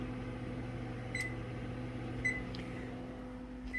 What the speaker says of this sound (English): So my timer set for 5 minutes for something else I was working on.